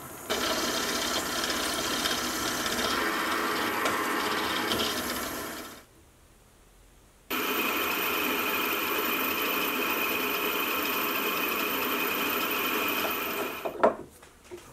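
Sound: boring a hole in a fly press ram block

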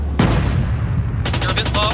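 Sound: gunfire in a video game

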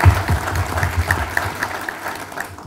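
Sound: audience applause

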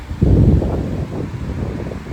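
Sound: wind blowing into microphone

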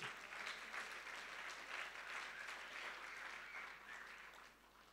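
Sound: congregation clapping hands in praise

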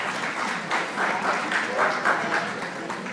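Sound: applause

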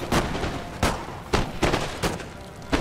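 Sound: musket volley fire from infantry in Napoleon Total War video game

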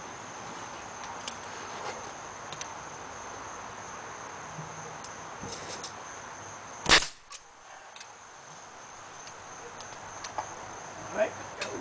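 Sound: staple gun firing staples

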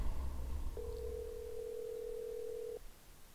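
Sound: telephone ringing in The Walking Dead video game

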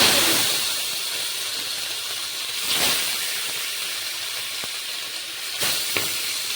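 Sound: rohu fish pieces frying in hot oil in a wok

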